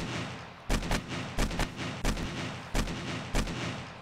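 Gunfire in the video game 7 Days To Die: five heavy, booming shots spaced roughly every 0.7 seconds, each with a short ringing tail, loud and close with no talk.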